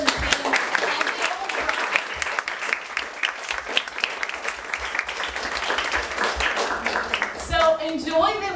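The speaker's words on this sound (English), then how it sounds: "can we have a round of applause for Oxygen team" Audience applause after a panel discussion at an evening HR event for women in the workplace, sustained dense clapping from a room of people that continues steadily, with a speaker's voice returning near the end.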